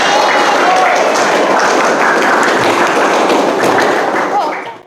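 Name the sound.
applause for a presenting group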